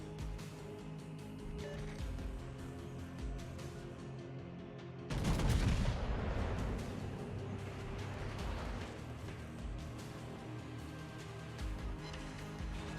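Naval gunfire in a video game aimed at the ship Pommern erupts as a sudden heavy boom and rolling barrage partway through, rumbling on over a steady hum of engines and background noise.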